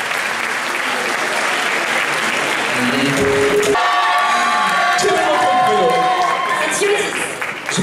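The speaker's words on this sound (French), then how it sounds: "On vous applaudit, Heather, s'il vous plaît." An audience at a Miss Rouen 2018 beauty pageant applauds a contestant with dense, loud, sustained clapping and some cheering and whoops, while a voice speaks over the crowd partway through.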